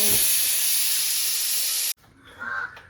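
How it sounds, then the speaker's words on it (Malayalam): A pressure cooker whistle gives a loud, sustained steam hiss for about two seconds, then cuts off abruptly, leaving quieter kitchen sounds and a faint tone. "കുക്കർ വിസിലടിച്ചു"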